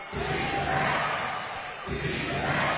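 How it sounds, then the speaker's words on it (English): A basketball crowd at a British Basketball League game between Caledonia and Plymouth fills a packed pavilion with dense, continuous roar and rhythmic chanting, loud and sustained with a brief dip before swelling again. "Well, the crowd with the defense chant right now."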